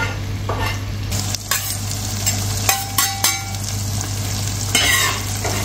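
Chopped tomatoes sizzling in a pan for aloo gosht, steady frying hiss broken by several scraping and clanking strokes of a spoon stirring, close and moderately loud, with a low hum underneath.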